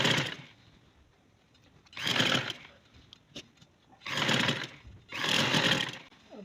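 A sewing machine stitches folded trouser fabric over buckram in several loud bursts of rapid whirring, each lasting about half a second to a second, separated by short quiet pauses with faint handling noises.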